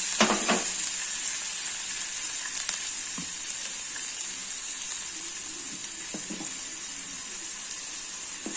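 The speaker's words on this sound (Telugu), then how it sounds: "నేను కొంచెం నూనెలో డీప్ ఫ్రై చేస్తాను" Bread deep-fries in hot oil, a loud, steady hiss and crackle held close throughout, with occasional clinks and scrapes of a utensil and no speech.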